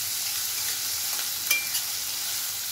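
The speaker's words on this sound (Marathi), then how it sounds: "आता कांदा चांगला परतून घेऊया।" Chopped onion sautés in a pan for shepu bhaji, a steady soft sizzle with a couple of faint stirring scrapes.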